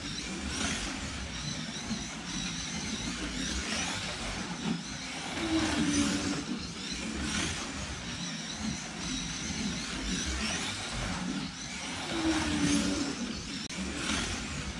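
A GT3 race car accelerates hard through the gears during qualifying, a loud continuous engine roar with repeated rising surges and brief dips at shifts, heard from inside the car.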